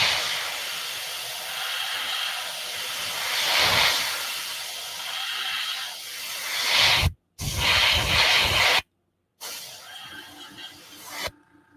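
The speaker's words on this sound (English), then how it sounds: "Let's just spray this weld." Aerosol spray can spraying paint onto a weld, long loud hissing bursts close up, broken by short pauses and a final brief spray, with no talking over it.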